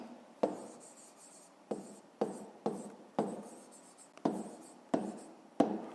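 A pen writing on paper for a school maths exercise, heard close and quiet as a series of short scratchy strokes, each with a sharp onset and fading tail, in an uneven rhythm with no speech.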